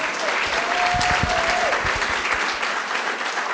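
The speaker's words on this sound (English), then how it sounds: "Let's give a big round of applause to all of our presenters" An audience at a welcome reception at the University of San Diego gives a big, sustained round of applause for presenters, dense clapping holding steady and fairly loud throughout, with a few brief background voices.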